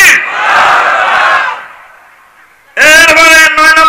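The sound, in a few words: crowd shouting takbir in response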